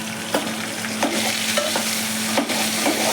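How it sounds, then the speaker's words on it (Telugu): Ginger garlic paste stirred into potatoes frying in a pan for a crispy fry, a close steady sizzle of hot oil broken by several scraping strokes of the spoon, alone with no talk. "దీంట్లోకి కొంచెం అల్లం వెల్లుల్లి పేస్ట్ యాడ్ చేసుకుందాం"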